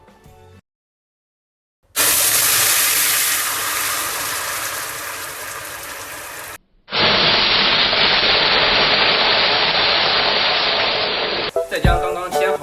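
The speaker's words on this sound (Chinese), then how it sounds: "将开水倒入。" Boiling water poured into a wok of caramelized rock sugar for sweet and sour pork ribs, giving a loud sustained hiss and sizzle in two long bursts, heard alone.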